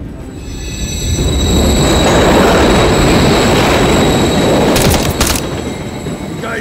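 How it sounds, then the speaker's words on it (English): A train in a tunnel rumbles loudly past in the Call of Duty Modern Warfare III London mission, swelling to a heavy roar with wheel squeals and clanks before easing slightly. "Another train coming."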